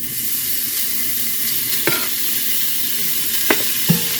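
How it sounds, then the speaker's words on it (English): Three slices of diced bacon sizzling in a preheated pot with a little oil, a steady close frying hiss throughout, with a few light clinks of a utensil against the pot. "we're going to start with 3 slices of bacon that I diced"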